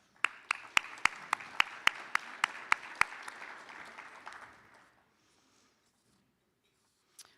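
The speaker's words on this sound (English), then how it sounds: "So just one last round of applause." An audience at a civil engineering professional development event applauds; a burst of even, steady clapping with a few sharp claps on top fades out after about five seconds, then silence.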